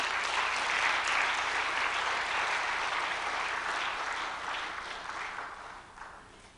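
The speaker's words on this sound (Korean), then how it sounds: "우리 박수로 환영하겠습니다" A seminar audience at a church reform gathering applauds in welcome for a visiting pastor, a full burst of clapping that gradually fades toward the close.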